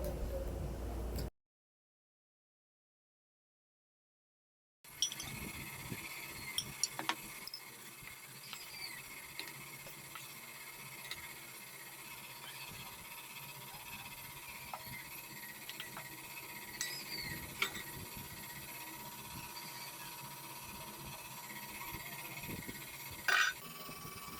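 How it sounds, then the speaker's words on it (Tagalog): Devil's food cake batter being whisked in a bowl, a soft continuous scraping and ticking with small clicks from the whisk, steady and fairly quiet throughout after a brief silent gap near the start. "Whisk it for about 2 to 3 minutes."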